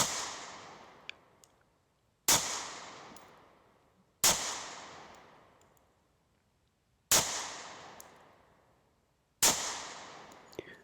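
A custom-built Sig Sauer pistol chambered in 22 TCM fires five sharp, loud shots about two seconds apart, each crack trailing off in a brief ringing decay before the next.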